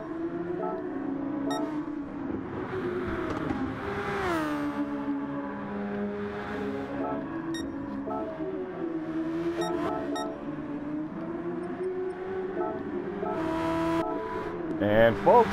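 Super Formula race car engines in a racing video game, multiple cars battling on a dirt section at Willow Springs, their engines droning and shifting pitch continuously under steady commentary.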